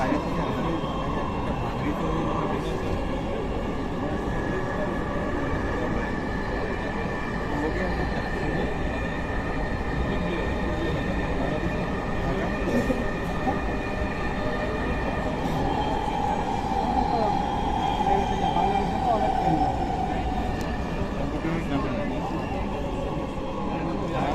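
A Dhaka Metro Rail train runs at steady speed, with a constant loud rumble and hum of wheels and motors and a brief rising whine partway through; announcements and voices can be heard over the noise.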